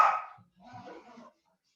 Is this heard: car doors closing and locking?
no